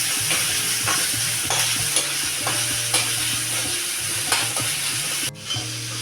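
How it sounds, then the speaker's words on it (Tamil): Two large chopped onions with curry leaves fry in oil in a kadai for a kuzhambu, giving a steady close sizzle broken by repeated scraping stirs of a spoon against the pan. "வெங்காயம் நல்லா வதங்கட்டும்."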